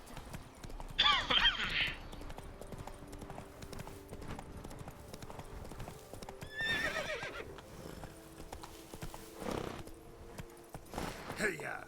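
In the Witcher 3 video game, the horse Roach clip-clops with rhythmic hoofbeats across the ground, broken by several loud neighs and whinnies over a low ambient background.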